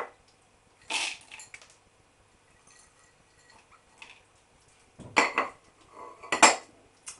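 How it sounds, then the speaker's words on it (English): Utensils clink and scrape sharply against a bowl in a few short bursts while eggs are beaten into a batter for sweetcorn fritters, close and quiet between the strokes. "I'm going to beat all this to make a batter."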